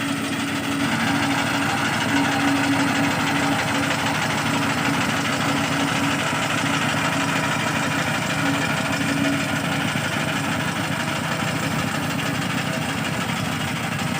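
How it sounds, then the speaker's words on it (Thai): New tractor-drawn grass cutter working a pangola grass field on a cattle farm in Pak Tho, Thailand, its engine running at a steady drone throughout with a constant mechanical whir and no pauses. "กำลังมาลองตัดหญ้าครับ"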